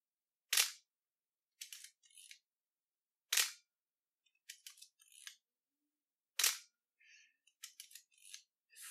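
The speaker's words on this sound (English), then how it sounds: "one of the most satisfying shutter sounds I've ever heard" Three sharp shutter releases from a Pentax SL 35mm SLR camera, each followed by softer mechanical clicks and whirs of film advance, close and isolated in a quiet room.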